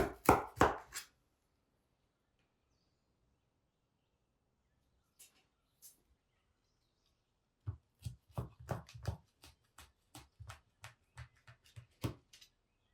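A knife cutting Burmese pumpkin semolina cake into diamonds, producing a quick cluster of crisp taps, then near silence with a couple of isolated clicks, followed by a longer run of rhythmic close cutting knocks against the board.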